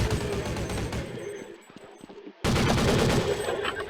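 Automatic gunfire from Counter-Strike bursts out loud and dense, a rapid stuttering volley that fades briefly to a lull before resuming at full force.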